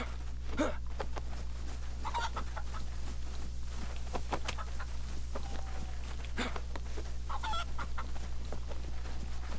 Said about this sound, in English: Chicken chasing time.